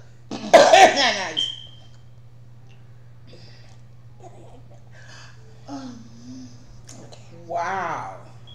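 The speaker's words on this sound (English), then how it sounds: "I got the coughing thing going on." A man coughs several times in a harsh, loud burst and then gives smaller throat-clearing coughs and breathy sounds, heard close up in a quiet room during a seafood boil meal.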